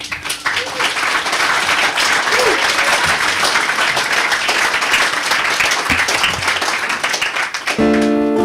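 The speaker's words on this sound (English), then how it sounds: "I want to give a big round of applause for the people at Brooklyn Peace" Audience applause at a Brooklyn Peace gathering on the Syria refugee crisis, a sustained burst of many hands clapping, loud and close, fading as a voice begins at the end.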